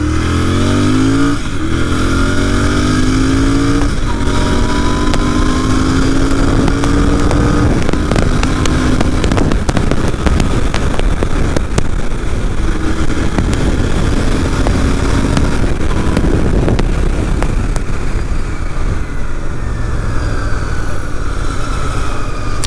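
A Royal Enfield Continental GT650 twin, a 650cc motorcycle, revs loud and close, pitch climbing and dropping as it pulls through several gear changes, steady and continuous throughout.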